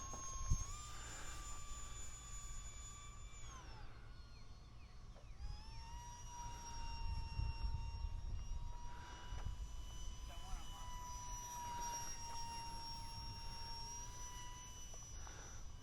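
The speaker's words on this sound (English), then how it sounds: "She's a pretty fast jet." A UMX F-86 Sabre 30mm EDF radio-controlled model jet flies past with a steady, high-pitched ducted-fan whine that rises and falls in pitch as it passes, moderately distant over a low outdoor rumble.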